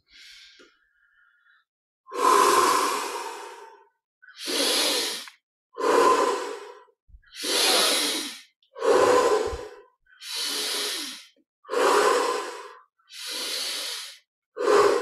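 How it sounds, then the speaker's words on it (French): Slow, deep breaths during a guided meditation, about nine long inhale-exhale cycles in a steady rhythm, close and clearly audible with silence between each breath. "on prend encore un peu plus d'air à chaque fois"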